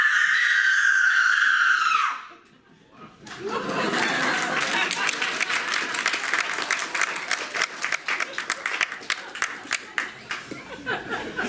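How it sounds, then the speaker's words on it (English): A shrill, sustained scream rings out for about two seconds in a stage play set in a waiting room, then breaks off. A pause follows, then a long burst of clapping and crowd noise. "At rise, a blood-curdling scream."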